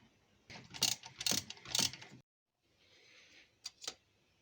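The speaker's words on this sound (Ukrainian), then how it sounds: "Далі беремо головку на 12 і відкручуємо ще два болти." Ratchet wrench with a 12 mm socket unscrewing bolts from the EGR valve of an Opel: three close bursts of rapid clicking, a pause, then a softer rasp and two quick final clicks.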